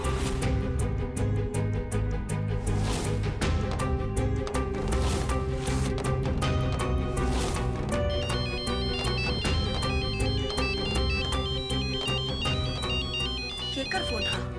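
Phone ringtone playing a repeating melodic tune throughout, mixed with background music and voices in a television drama scene.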